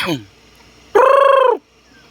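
A red junglefowl (labuyo) gives one loud, clear, harmonic call of about half a second, preceded by a brief fainter descending cry, with near silence between and after.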